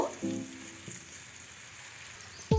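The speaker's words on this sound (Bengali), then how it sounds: "এবার তিলটা আমি আবারও নেড়ে চেড়ে 1 মিনিট ভালো করে ভেজে নিব" Ground sesame paste with fish fries in a pan on low flame, giving a quiet, steady sizzle with faint stirring scrapes near the start and a brief clank at the end.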